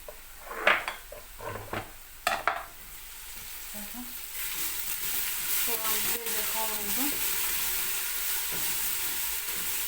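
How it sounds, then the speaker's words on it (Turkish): Onion and garlic sauté in a pan for a purslane dish. A few close utensil clatters come first, then a steady hissing sizzle carries on, with brief stirring scrapes. "Ben bir de çok kavuruyorum. Çok kavurduğun zaman yerken onu hissetmiyorsun."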